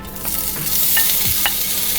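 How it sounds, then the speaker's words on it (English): Steady, loud sizzling of sausages frying on medium heat in a hot cast iron skillet, a continuous crackle with occasional sharper pops. "Listen to that sizzle."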